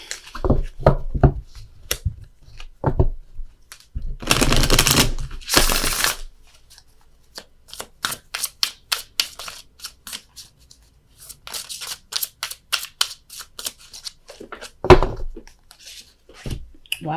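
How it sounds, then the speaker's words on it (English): Repeated soft riffling and tapping of tarot cards being shuffled close by, in quick bursts with brief pauses between handfuls. "Dropped a load of cards here on the floor, so I gotta shuffle again."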